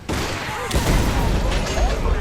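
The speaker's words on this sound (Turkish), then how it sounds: "Oha çok çabuk patladı." A sudden loud explosion in the video game Prototype 2 bursts in, followed by a rumbling, crackling roar that stays dense and heavy to the end.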